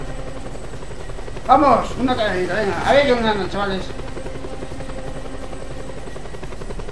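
In the video game Just Cause 2, a helicopter chasing the player gives a steady rotor drone throughout, with a player's excited voice talking over it briefly in the middle.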